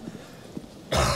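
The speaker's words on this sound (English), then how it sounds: "I'm about to cough." A single abrupt cough bursts out near the end after a quiet, breathy lead-in, loud and close to the microphone.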